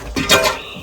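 A brief clatter as a pane of window glass falls and breaks, a bright, glassy crash, close and sharp, fading quickly into quiet.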